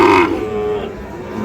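A Sahiwal bull calf at a cattle market lets out one loud, close moo that starts strong and tapers into a drawn-out lowing tone.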